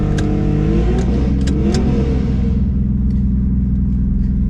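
A drag racing car launches on its second pass down the strip, its engine revving hard and climbing in pitch before settling into a steady loud rumble, with the roar close and continuous throughout.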